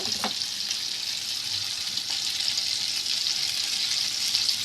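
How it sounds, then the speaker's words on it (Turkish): Meatballs sizzle steadily in a hot pan, a constant loud frying hiss with a faint clink near the start. "bu şekilde köftelerimi kızartacağım"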